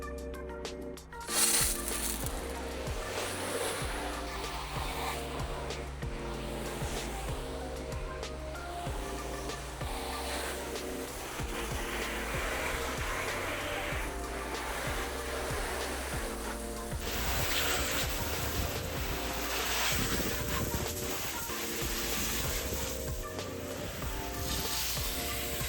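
A garden hose sprays water across a car, a steady broad hiss of rushing and splattering water that continues throughout at moderate distance, shifting in tone partway as the spray moves to another area.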